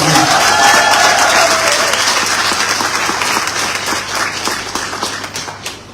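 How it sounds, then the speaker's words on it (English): Graduates applaud at a university recognition of graduates ceremony, a loud, dense crowd clapping that holds steady and slowly thins toward the end, with faint voices mixed in. "Let us give ourselves a well-deserved round of applause."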